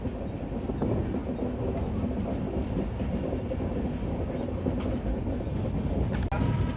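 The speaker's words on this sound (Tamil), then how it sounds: "வண்டி லைட்டாக ஸ்லோவாக இருக்குது." A passenger train on the Pollachi to Salem line slows near Irugur Junction, giving a steady, loud rumble of wheels and carriage noise throughout, with faint rail clatter and no voices.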